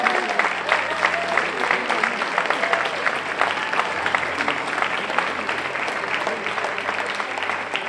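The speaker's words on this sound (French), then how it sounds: "je crois qu'on peut les applaudir très très fort." A gala audience in a hall applauds young dancers after their exotic choreography at a sand-queens pageant: steady, dense clapping throughout with a low hum and crowd murmur underneath.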